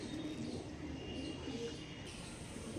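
Andhra pigeons, including a Kalanka pair kept for sale, give soft, low coos at a distance over a faint background hum.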